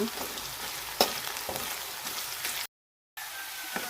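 Potatoes fry in oil with a soft, steady crackling sizzle and scattered pops, broken by a brief gap of silence.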